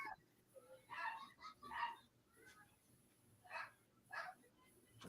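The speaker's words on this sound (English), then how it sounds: "I think that was a dog yelping" A dog yelps several times in short, sharp bursts spread across the clip, moderately faint against a quiet room background, with no talking over it.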